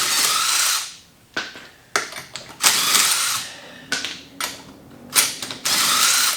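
Bursts of ratchet and impact-tool whirring as lug nuts come off a wheel of a Pontiac G8 with an LSA engine, several loud spurts with short pauses between, close by with no talk.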